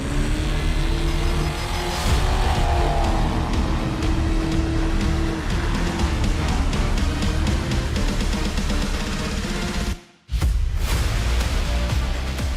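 Ford Racing Bronco off-road race truck with Triton Engineering IFS, driven hard across desert terrain at King of the Hammers, its engine roaring loud and steady and close by, with a brief dropout near the end.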